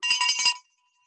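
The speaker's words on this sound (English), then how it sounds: "That's a bell." A small Christmas ornament bell rings in a quick, bright jingle of several rapid strikes lasting about half a second, close and clear, then cuts off into silence.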